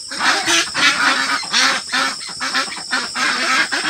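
A flock of ducks quacks loudly and close, overlapping honking calls in a busy, irregular chorus with no pauses.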